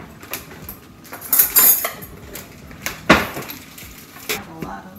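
Metal cutlery and dishes clatter and clink in a home kitchen while baking gingerbread cookies, a few sharp rattles and knocks close by, with brief quiet talk around them.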